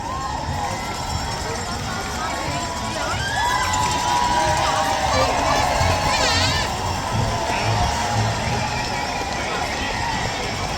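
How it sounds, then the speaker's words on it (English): A large crowd at the London Marathon in central London roars continuously, with shrill high-pitched screams and cheers rising above the dense wash of voices, loud and sustained. "Lots of very, very high-pitched screaming."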